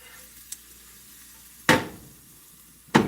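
Onions frying in a pan, a quiet steady sizzle broken by two sharp, loud bursts of scraping or stirring and a small tap early on.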